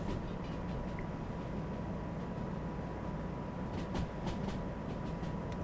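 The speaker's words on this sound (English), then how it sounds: "It's a little diesel electric micro shunter." A steady low rumble from a small diesel-electric shunter locomotive in the game Derail Valley, with rattling rail noise and faint clicks, continuous and fairly close, with no talking.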